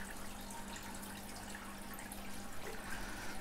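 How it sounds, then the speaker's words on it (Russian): Water gushing under pressure from a refill hose of an Aqua Medic auto top-off system for an aquarium; a continuous, even rushing and splashing stream, fairly faint with a steady low hum beneath. "Вот таким напором пошла вода."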